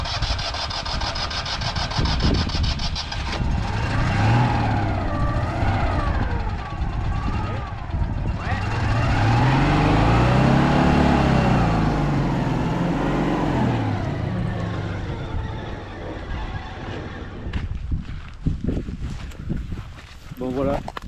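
A car engine revs hard and strains in repeated surges while trying to drive out of mud on the dunes of the Mauritanian coast, the chassis resting on the ground; loud and close throughout, with people talking over the engine noise.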